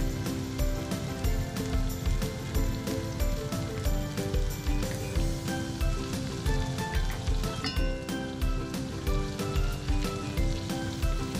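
Pork chop, carrots and vegetables fry in a pan while being stirred, giving a loud, steady sizzle with scattered scraping clicks throughout, no voices.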